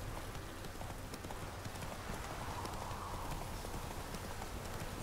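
A horse gallops in The Witcher 3, its rapid clip-clop hoofbeats running steadily and faintly under a dense game soundscape, with talk over it.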